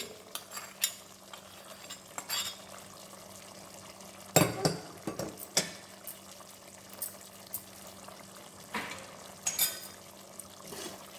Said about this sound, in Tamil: இந்த பேனில் இருக்க வெங்காயத்தை கொட்டிடலாம் இதுலேயே.